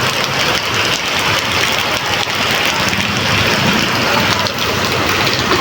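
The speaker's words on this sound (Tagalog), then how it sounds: "Lakas ng ulan, oh." Heavy rain pours down in a loud, continuous, dense hiss that stays steady and close from start to finish.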